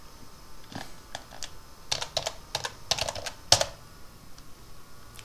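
Computer keyboard keys clack in uneven bursts while LaTeX code is typed, close and crisp, with short pauses between flurries of keystrokes.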